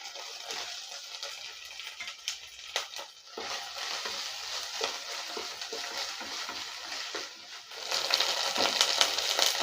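Tomato sizzles and crackles steadily in a hot pan, with occasional scraping and stirring sounds, growing a little louder toward the end.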